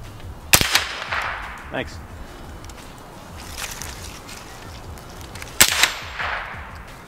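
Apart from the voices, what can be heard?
gunshots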